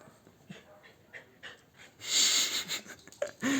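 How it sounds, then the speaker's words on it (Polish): A dog panting and wheezing with harsh, breathy snorts, close by, a few short bursts growing louder toward the end; no clear barks stand out. "niech sobie szczeka"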